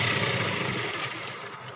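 Sewing machine stitching a blouse, a fast steady mechanical whirring with even rhythm, close and continuous, no voice.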